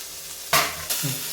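Two sudden bursts of sizzling as spices hit hot oil, loud and close, with a brief stirring scrape between them.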